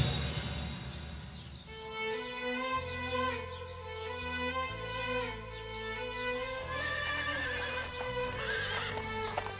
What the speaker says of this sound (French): Le son des chevaux qui s'approchent.